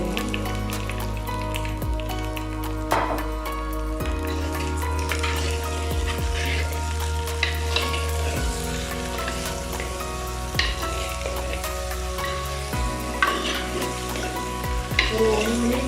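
Green tomatoes fry in hot oil for a Tamil green tomato curry, sizzling steadily and loudly up close, with repeated scraping and clinking stirs of a spoon against the pan throughout.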